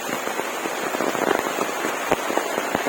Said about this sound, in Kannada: ಈ ರೀತಿ ಮಳೆ ಬರ್ತಾ ಇದೆ